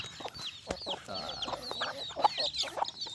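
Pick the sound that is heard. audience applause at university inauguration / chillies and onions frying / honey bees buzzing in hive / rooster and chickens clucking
rooster and chickens clucking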